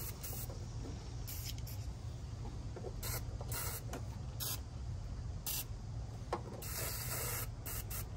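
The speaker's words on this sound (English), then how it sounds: "I did use liquid wrench on these old rubbers here" Liquid Wrench penetrating oil sprayed from an aerosol can onto stubborn old rubber seals during a Bronco air conditioner rebuild, several short, close hissing bursts separated by quiet gaps.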